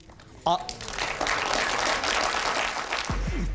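Applause rises in the House of Commons during Prime Minister's Questions, a dense bank of clapping and shouting that swells after a brief voice and holds steady, with a narrator speaking faintly beneath.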